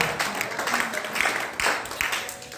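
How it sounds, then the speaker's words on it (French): A church congregation applauds the word of God, a dense wash of clapping filling the room at close range, with voices mixed in. "Maintenant, acclame pour la parole de Dieu."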